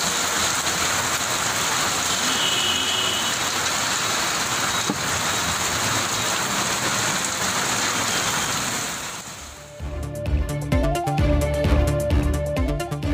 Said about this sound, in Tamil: தமிழகத்தின் பல்வேறு பகுதிகளில் மழை பொழிவு